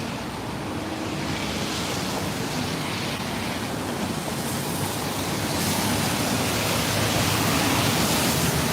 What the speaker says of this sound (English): It's just raindrops on the trees.